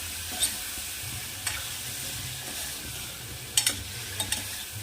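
Drumstick pods being stirred in hot oil in a cooking pan, with a steady close sizzle of frying beneath a few sharp clinks of a utensil against the pan.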